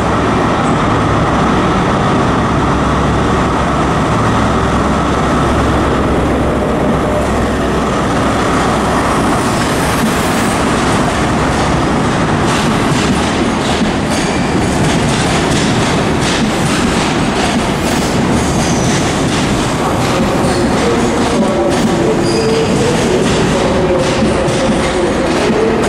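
A high-speed train, the New Measurement Train with power cars 43014 and 43062, departs Edinburgh Waverley and rumbles steadily past at close range, wheels clacking over the rails as a broad roar fills the whole stretch with no voices.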